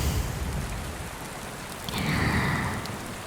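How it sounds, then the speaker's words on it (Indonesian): Heavy rain falls in a steady, dense hiss that swells slightly toward the end, with no voices over it. "Apalagi hujannya masih sederas ini."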